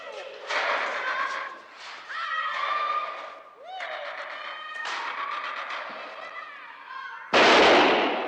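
A single loud gunshot from a revolver believed to be unloaded cracks out near the end, after several seconds of voices talking in a 1970s police drama scene.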